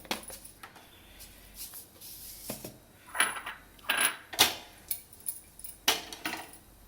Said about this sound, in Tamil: கடுகு நல்லா பொரிஞ்சு வரட்டுங்க. நல்லா பொரிஞ்சு வருதுங்க.